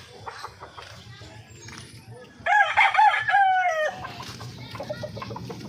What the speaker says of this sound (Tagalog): Ang aking mga manok.